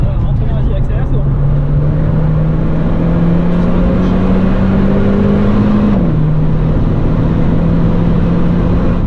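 Renault Clio 4 RS engine pulling hard on the Nürburgring circuit, a steady close-up in-car drone that climbs in pitch through the gears, dips briefly at a shift, then rises again, loud and continuous.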